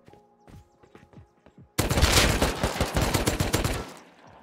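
Rapid automatic gunfire bursts from a weapon in the Rust survival game, dense and loud for a couple of seconds after a few sparse softer clicks and thuds, then fading out.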